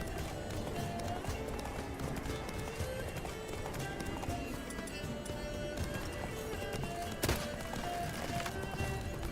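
Hooves beat in a steady, galloping rhythm from a horse in the video game The Witcher 3, a continuous clip-clop under game ambience with one brief sharp thump.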